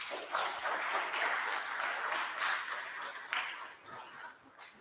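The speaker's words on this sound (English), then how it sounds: "Let's give her a warm round of applause." An audience at an indoor dinner talk gives a warm round of applause, a faint, continuous patter of clapping that swells and fades over a few seconds.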